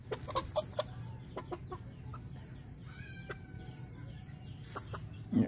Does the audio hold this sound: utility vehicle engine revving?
no